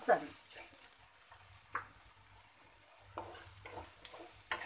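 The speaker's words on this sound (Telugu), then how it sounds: "బాగా ఇవన్నీ కూడా ఈ ఇంగ్రీడియంట్స్ అన్నీ కూడా బాగా వేయించుకోవాలండి" Spices and ingredients for a fenugreek buttermilk curry tempering fry quietly in a pan, with soft sizzling and a few sharp scraping stirs of a spoon at intervals.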